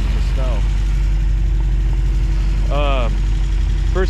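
An 1980s Toyota 4Runner engine idles in snow during off-road driving, a loud, steady low drone running the whole time while people talk over it.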